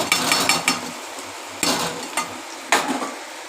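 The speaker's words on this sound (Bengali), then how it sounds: "এবার আমি আলুগুলো দিয়ে দেব।" Potatoes tumble into a pan of fried spice paste for a prawn malaikari, giving sharp sizzling bursts and clatters of utensil against pan, each burst fading before the next.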